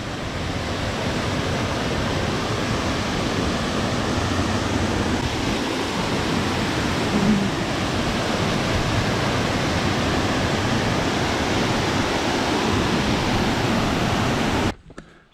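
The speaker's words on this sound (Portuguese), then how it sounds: "Chegando aqui na primeira queda d'água." Rushing water at the first waterfall along a hiking trail on the Estrada Real near Poço Preto, Rio de Contas, a steady, dense, broadband roar that continues unbroken for the whole span and then cuts off abruptly at the end.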